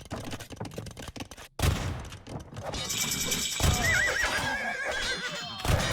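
Knights' horses whinny and neigh amid volleys of hand cannon fire in an Age of Empires battle, with a horse call rising clearly over a dense, loud clatter of combat.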